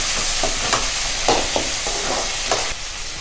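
Tomatoes and onions sizzle loudly in a hot pan, with a steady frying hiss broken by a few scraping stirs of a ladle.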